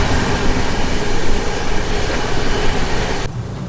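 The Kerala Superfast Express, running from Trivandrum Central to New Delhi, passes on the opposite track: a loud, steady rushing roar of rail cars and wheels that cuts off abruptly near the end, with no voices.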